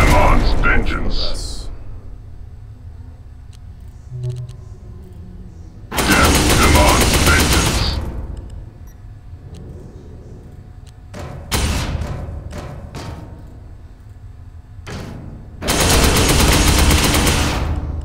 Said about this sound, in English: let me just use the normal frag missile